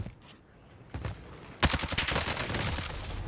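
AMAX assault rifle fire in Warzone (Modern Warfare), a couple of isolated shots followed by a sharp, loud sustained burst of rapid automatic fire, close and punchy.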